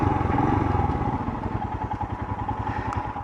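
A Royal Enfield Himalayan BS6 motorcycle is being ridden, its engine giving a steady, close, rhythmic thumping drone that eases slightly partway through.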